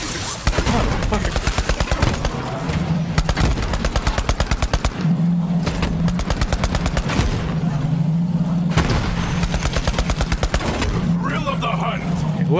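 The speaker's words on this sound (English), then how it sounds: "He has a gun, he's shooting at me!" Rapid automatic gunfire from enemies in the video game Borderlands 3 rattles almost continuously, loud and close, in long bursts broken by brief pauses, with deeper booms underneath and a player shouting over it.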